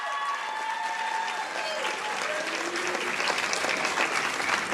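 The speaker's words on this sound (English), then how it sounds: "One more round of applause for our second team all-conference" Full, continuous applause from the audience at a high school sports awards ceremony at Lindenwold High School, loud and steady, swelling slightly toward the end, with a few voices faintly audible beneath.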